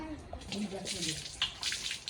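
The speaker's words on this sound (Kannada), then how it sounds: "ಭೀಮಾ ಇನ್ನು ಬೇಡ ಇರು, ನೀರು ಹಾಕ್ತೀನಿ." Water splashes and pours in short, close gushes over a dog during a bath, with a quiet voice murmuring underneath.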